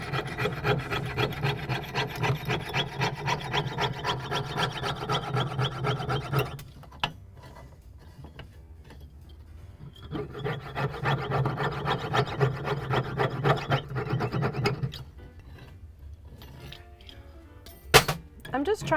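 A jeweler's saw frame cutting excess metal from a cast silver pendant, fast rhythmic rasping strokes in close bursts, pausing midway before sawing resumes, with a sharp clack near the end.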